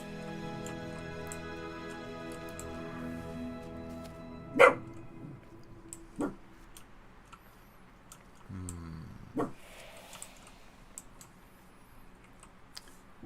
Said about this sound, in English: I hear barking.